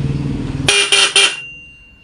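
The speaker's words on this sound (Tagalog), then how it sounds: "tumunog yung ating stock horn" A motorcycle's stock horn honks three times in quick succession, loud and close, each blast short and bright, ending abruptly.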